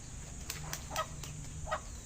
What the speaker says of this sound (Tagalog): May mga alaga din tayong manok dito